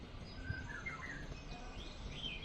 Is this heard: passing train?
no